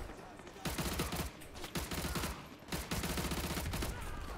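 Automatic gunfire in Modern Warfare 2 Remastered on veteran difficulty, heard as sustained rapid bursts with short gaps, loud and busy in the foreground.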